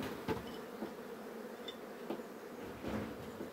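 Buckfast honeybees buzz around an active apiary in early spring, a steady soft hum with individual bees droning past now and then, fairly faint and with no voices.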